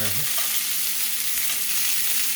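Pork chops searing in a cast iron pan, a dense, loud, continuous hiss of sizzling fat filling the whole moment, close up and with no voices.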